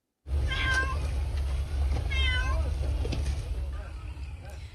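A cat meows repeatedly near a wildfire in southwestern Turkey as a firefighter gives it water from a bottle, the plaintive cries clear and close over a steady low background hum.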